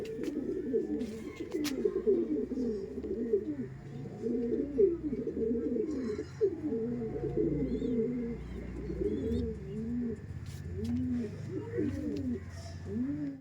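Pet pigeons cooing close by at a pigeon seller's, repeated soft rolling coos overlapping steadily throughout, with faint background noise and a few distant voices.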